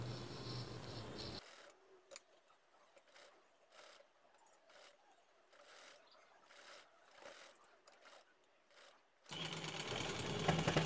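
Sewing machine stitching a twice-folded quarter-inch hem on a petticoat frock, a quiet rapid needle chatter running steadily between louder bursts of noise at the start and end.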